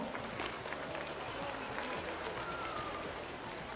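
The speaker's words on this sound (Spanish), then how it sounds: "un gran aplauso para las empresas públicas" Steady applause from a crowd, broad and continuous, with a murmur of voices mixed in throughout.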